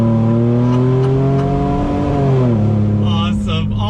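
A Ford F-150 RTR pickup engine revs hard on throttle, loud and close, with a droning exhaust note that climbs and then shifts pitch partway through. A whoop of excitement rises near the end.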